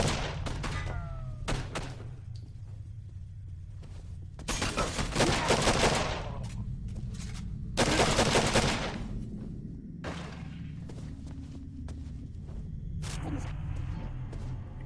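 Gunfire in the horror shooter Condemned 2, a series of loud ragged bursts of shots separated by quieter gaps with scattered thumps and movement, no talking over them.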